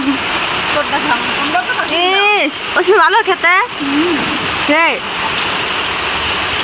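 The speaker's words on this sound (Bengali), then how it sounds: "বৃষ্টি হচ্ছে অনেক জোরে জোরে।" Heavy rain pours down in a dense, constant wash of noise around a house near a pond, while people talk close over it.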